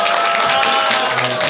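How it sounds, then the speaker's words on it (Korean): A youth video camp audience claps briefly with a dense, even patter, close and fairly loud throughout. "박수 부탁드릴게요."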